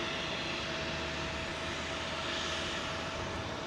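A Boeing 747 departing London Heathrow runway 27L gives a steady, broadband jet engine roar with a thin sustained whine, loud and constant with no voices.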